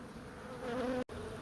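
Close, steady buzzing of honey bees around a hive during relocation, with a brief cut near the end.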